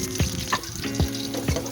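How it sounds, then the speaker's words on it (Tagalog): Chopped garlic dropped into hot cooking oil for chicken sinigang, giving a soft, steady sizzle with a few light stirring clicks, close and alone. "Lagay tayo ng mantika. Ayan. Bawang. Lagay natin bawang."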